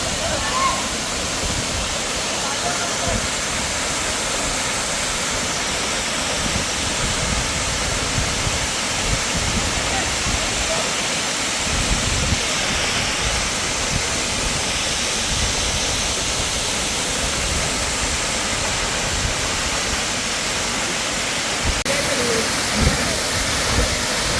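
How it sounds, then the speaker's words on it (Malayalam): Little Kuttaalam waterfall near Pathanapuram roars with a dense, continuous broadband rush, close and loud, while strong wind buffets the microphone throughout. "ഇതിൻ്റെ അടുത്ത് നിൽക്കുമ്പോൾ തന്നെ ഭയങ്കര കാറ്റടിച്ചിട്ട് ഈ വെള്ളച്ചാട്ടത്തിൻ്റെ ഭയങ്കര കാറ്റടിക്കുന്നുണ്ട് ഇവിടെ"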